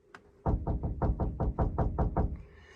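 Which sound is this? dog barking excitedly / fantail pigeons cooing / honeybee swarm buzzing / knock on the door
knock on the door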